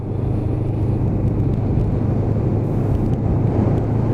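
A Lexmoto LXR 380cc motorcycle on a road ride, its engine a steady, close, loud low drone with rumbling wind noise and no change in pace throughout.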